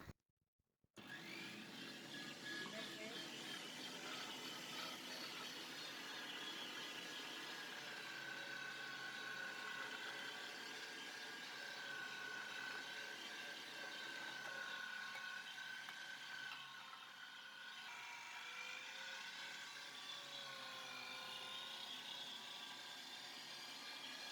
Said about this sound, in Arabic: هلا رح نشوف كيف رح نطحن الفلافل